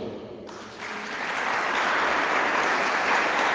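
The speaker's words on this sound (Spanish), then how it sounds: "¿Cuánto le da un aplauso al Señor por eso?" Congregation applause at a religious talk on spiritual combat, starting as a dense, broad wash after a brief quiet moment and swelling steadily louder to the end.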